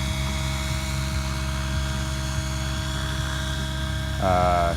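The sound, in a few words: radio-controlled helicopter flying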